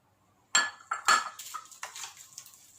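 A spoon stirs homemade dahi pakori raita with crisp pakoris, black pepper and salt in a bowl, making a few loud close clinks against the dish followed by softer scraping taps as the mixing goes on.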